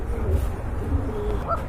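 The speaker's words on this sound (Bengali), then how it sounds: "যেটা ডাকছে ওটা হচ্ছে কোকা কবুতর" A male pigeon in a white pair at a pigeon market coos in low, soft, repeated murmurs, close and steady, with a faint voice and some background noise around it.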